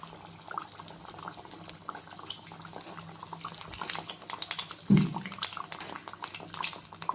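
Cowpea garelu (vada) going into hot oil, with a steady soft bubbling and sizzling throughout and a brief louder splash of frying near the middle.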